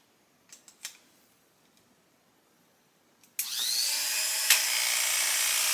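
An Artero 1.5 clipper blade switched on after a few handling clicks, running with a loud, steady buzzing rattle close by and a brief sharp knock partway through.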